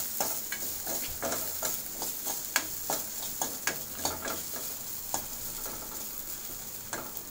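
Sizzling of food sautéing in a pan for tomato rasam, with irregular scraping and stirring clatters from a utensil, fairly quiet and close.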